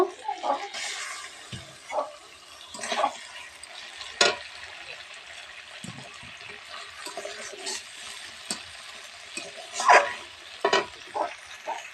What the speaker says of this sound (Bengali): এই যে আমি চিংড়ি মাছগুলো এবার দিয়ে দেব